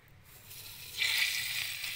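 Fish drops into very hot oil in sweltering heat, and after a quiet start a sharp, hissing sizzle bursts up close and holds steady and bright.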